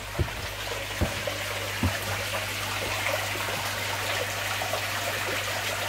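Fresh tap water pours steadily from a hose pipe into a koi pond, a continuous close rushing splash with occasional low gurgles and no talk.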